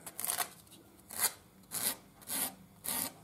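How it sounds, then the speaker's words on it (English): Sandpaper rubs inward along the grain around holes in wooden wing ribs. Five short, soft, raspy strokes repeat at a steady rhythm, quiet and close. "all you do on these holes is sand inwards with the grain, not outwards, but always in that direction"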